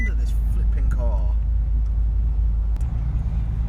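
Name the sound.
Bentley Continental GTC engine with sports exhaust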